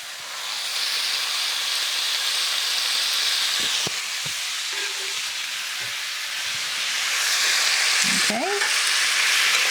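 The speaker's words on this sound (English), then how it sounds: "we're cooking these tomatoes until they're warmed up well, and there's a lot of moisture that comes off of that" Tomatoes and basil added to a pan with garlic sizzle and hiss steadily, a loud continuous frying sound with occasional stirring clinks and a brief spoken word.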